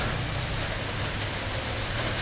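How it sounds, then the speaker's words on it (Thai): Rain pours down steadily, a dense, even hiss with no breaks and no talk over it. "โอ้ ฝนตกอีกเลยครับ"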